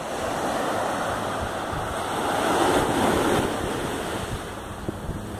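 Ocean surf washes onto Praia da Ilhota beach in Itapema, Brazil. The steady roar of breaking waves swells in the middle under strong wind buffeting the microphone, with no voices.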